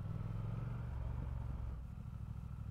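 A car engine idles along at about 1500 rpm while driving through town, a smooth low steady hum heard from inside the cabin, quiet and even, with no voices.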